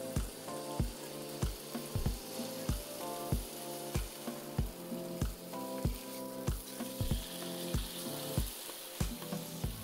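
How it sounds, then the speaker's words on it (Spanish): Chicken breasts frying in butter and oil in a hot pan over medium heat, a steady close sizzle with regular rhythmic clatter throughout and no voices. "voy a freír el pollo"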